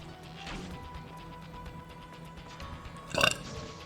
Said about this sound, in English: Ninja burp.